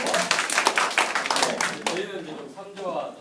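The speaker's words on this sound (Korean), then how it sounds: "박수 먼저 쳐주시고." Audience clapping at a workplace workshop presentation, a quick burst of many hands that fades after about two seconds as a voice begins speaking.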